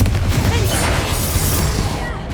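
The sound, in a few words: Confringo blasting curse explosion, Hogwarts Legacy video game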